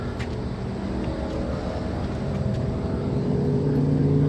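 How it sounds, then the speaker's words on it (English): A motor runs steadily somewhere close by on an old museum rooftop, a continuous low droning hum with faint revving that swells slightly louder toward the end, with no voices. "is that some sort of motor?"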